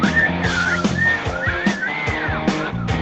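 Someone whistles a tune in a shaky and uneven way, with wavering pitch glides and short breaks between phrases. The whistling is close and alone, with a low background hum underneath.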